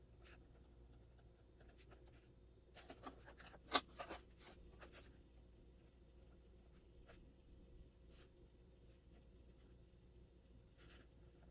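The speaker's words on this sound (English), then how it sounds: "I will just write them down" A pen writing words onto an art journal page, with soft scratchy strokes in short bursts, a busier cluster of strokes near the middle, then sparse faint marks in a quiet room.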